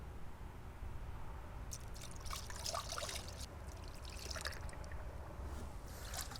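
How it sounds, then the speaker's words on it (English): Coolant poured through a funnel into a Jeep TJ radiator, a faint liquid trickle and splashing over low background rumble, steady and fairly quiet. "start pouring the coolant in"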